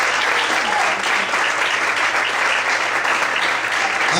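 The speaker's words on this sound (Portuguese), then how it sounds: "Você pode aplaudir ao Senhor nessa noite." Sustained applause from a church congregation fills the clip, with steady dense clapping at full loudness throughout and no talking over it.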